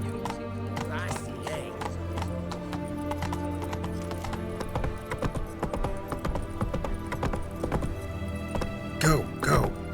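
Hooves of the horse Roach clip-clop at a steady gallop in The Witcher 3, a continuous close rhythmic pounding running the whole time, with a brief whinny-like call near the end.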